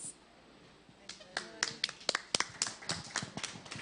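Scattered hand claps from a small church audience at a Christian family week event, building into uneven applause, fairly close, with a few louder individual claps standing out.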